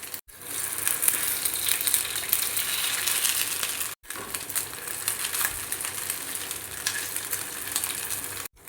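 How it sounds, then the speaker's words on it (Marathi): Rava rings fry in hot oil in a pan over a lowered gas flame, giving a steady bright hiss and crackle that runs almost without a break, dropping out only for brief moments. "आणि आता गॅसची फ्लेम मी कमी करते आणि छान क्रिस्पी होईपर्यंत हे रिंग्स तळून घ्यायचे।"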